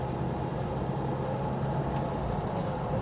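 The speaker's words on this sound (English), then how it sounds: "I'll get more accelerated with my run, and you guys can see it go through the gears." A 1986 Ford Mustang SVO with a factory turbo accelerating through the gears, heard as a steady, loud, dense engine and road roar that stays even throughout without clear shift breaks, with no talking.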